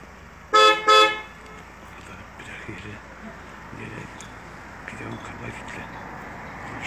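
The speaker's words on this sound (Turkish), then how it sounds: "Korna çalacak." Two short, loud Tofaş car horn toots in quick succession, followed by quiet background with faint talking.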